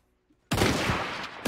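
A sudden loud burst of massed rifle volley fire in a Zulu Wars video game, erupting after a short quiet lead-in and rolling on as a dense, sustained crackle of many shots.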